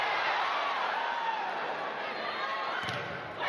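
Volleyball crowd filling Reynolds Coliseum during a college match, a broad, steady roar of chatter and noise, with a brief sharp impact near the end.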